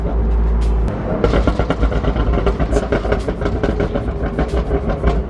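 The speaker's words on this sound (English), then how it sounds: "I like the pops, bro. Every time you let off or you shift." A BMW M4 driven hard, its exhaust crackling and popping in rapid bursts over a loud engine roar as the driver lifts off and shifts, heard from inside the car with no talk.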